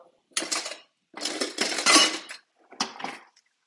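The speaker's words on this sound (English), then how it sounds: "and just drain off the liquid" Spatula pressing and scraping against a pan while draining liquid off cooked mushrooms, three separate bursts of metallic scraping and clinking with short silences between, close and fairly loud.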